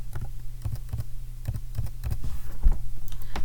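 Numbers typed on a computer keyboard, with close, crisp key taps in quick uneven bursts and short pauses, heard alone without speech.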